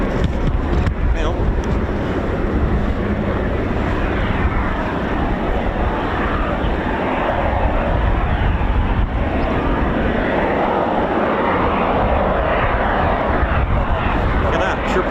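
Aircraft passing near RAF Coningsby, a loud continuous jet roar with heavy wind buffeting on the microphone, as someone talks excitedly over it.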